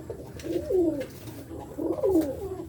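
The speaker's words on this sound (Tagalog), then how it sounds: "Pasok na yung isang ibon natin." Two soft, low cooing calls from a dove or pigeon, each a rising and falling phrase, fairly close with quiet background between.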